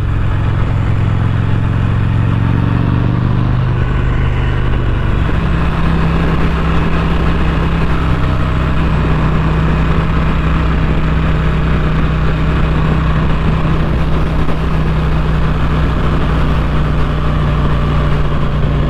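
P51 Combat Fighter motorcycle engine running steadily while being ridden, a loud continuous low rumble that shifts pitch slightly early on, then holds an even drone with no talking.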